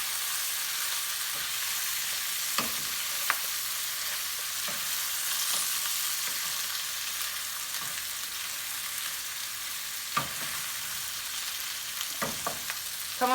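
A gumbo base cooks in a pot with a continuous close sizzle, punctuated by occasional scraping knocks of a spoon stirring through it.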